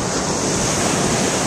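Ocean waves rolling onto a beach, a continuous loud rush of surf with wind buffeting the microphone.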